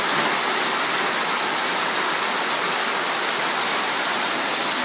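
Heavy rain with light hail pouring down in Bhojpur, Nepal, a dense, constant roaring hiss of water striking surfaces close by, unbroken and loud for the whole stretch.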